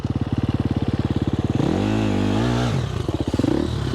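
A dirt bike stuck on a trail, its engine revving hard with a steady pulsing idle that rises into a sustained high rev before dropping back and pulsing again, close and loud.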